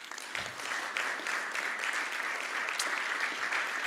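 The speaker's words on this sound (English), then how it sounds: "How about a round of applause for that?" Sustained audience applause at a university system Board of Regents meeting, a dense steady wash of many hands clapping at moderate distance, with no voices over it.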